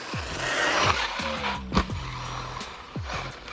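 An RC off-road buggy runs loud and close, its high-pitched electric motor repeatedly revving up and down with whining sweeps as it bashes around on fresh tyres.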